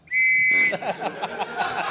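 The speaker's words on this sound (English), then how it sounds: "You speak as a whistle blew." A referee's whistle blown to end a turn on a comedy panel game show: one sharp, shrill blast lasting about half a second, loud and close, followed by a burst of audience applause.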